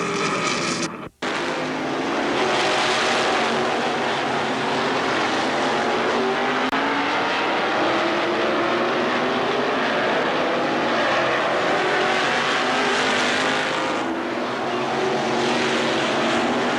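Strictly stock race cars roar around an oval track during a crash in turn four, a loud continuous engine drone with a brief dropout near the start and no voices over it.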